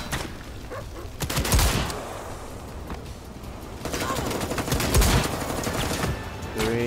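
Gunshots from a .44 revolver in the XIII shooter game, several sharp separate cracks spaced apart amid background gunfire, with someone talking over them.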